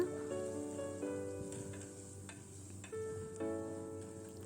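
Kerala fish curry masala of chili powder, onion, ginger and garlic sizzles steadily in hot oil while being stirred in the pan, with occasional scraping strokes and faint tonal sounds in the background.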